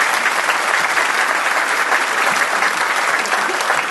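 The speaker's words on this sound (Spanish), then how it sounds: "Recibamos con un fuerte aplauso al doctor Francisco Tudela." Steady, dense applause from a conference audience welcoming a speaker to the podium, loud and continuous throughout with no talk over it.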